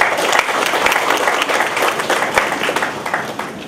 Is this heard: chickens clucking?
no